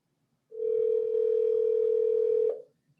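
Phone ringing tone on an outgoing call during an interview, one steady two-second electronic tone that starts and stops cleanly against near silence.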